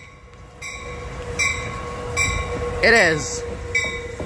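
An Amtrak Capitol Corridor passenger train in Northern California, led by locomotive 8311 with a Siemens Charger at the rear, rumbles past up close. Its horn sounds, then a brief spoken remark is heard over the passing cars.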